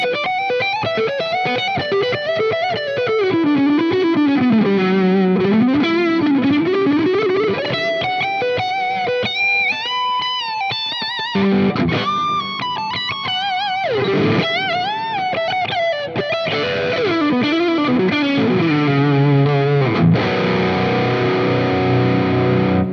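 Electric guitar through a Suhr Woodshed Comp compressor pedal plays a continuous, sustained and evened-out line with gritty distortion, notes gliding and bending, steady in level throughout with no talking.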